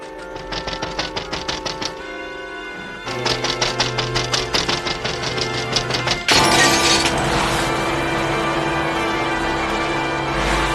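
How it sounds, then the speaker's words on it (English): In a film scene, a hand punches through glass and it shatters with a sudden crash that breaks into a sustained, noisy burst, set against rhythmic, tonal score music. "she literally punches the glass, her hand bleeding and everything"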